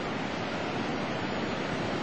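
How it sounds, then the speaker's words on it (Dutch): Heavy surf from the 2004 tsunami striking the Thailand coast, a continuous loud broadband roar of churning water with wind, steady and close for the whole stretch, no voices. "Zie je wat een grote golven?"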